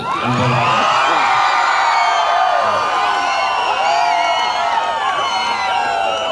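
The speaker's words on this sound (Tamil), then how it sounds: "மேலே ஆரவாரமா இருக்கு சார்" A large crowd at a Tamil stage comedy show cheers, whoops and shouts continuously, a dense roar of voices that stays loud throughout.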